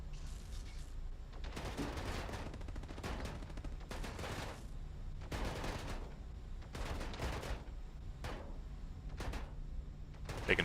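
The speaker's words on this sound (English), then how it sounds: "There's a it's a turret that's shooting me." A ballistic turret fires in a video game, heard as bursts of rapid automatic shots separated by short pauses, moderately loud over low background noise, with no talk.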